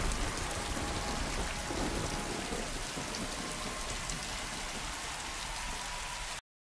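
Heavy rain falling steadily in a stormy medieval castle scene from a fantasy drama series, a dense continuous hiss with low rumbling underneath, ending abruptly in silence.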